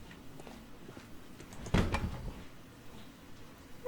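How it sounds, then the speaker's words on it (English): A door opening in the Sherlock Holmes: Crimes and Punishments video game, a single short creak and thud near the middle over quiet ambient game sound. "I mean, the door doesn't make that much noise."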